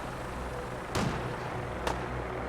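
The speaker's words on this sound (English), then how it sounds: "I hear gunfire." Two sharp gunshots from Fallout 4 combat, about a second apart, each a brief loud crack over a steady low background hum.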